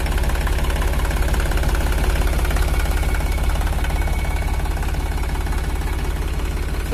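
Iseki NT540F tractor diesel engine idling with a slightly leaking turbo, a steady close low rumble with fast even knocking pulses throughout and no talk.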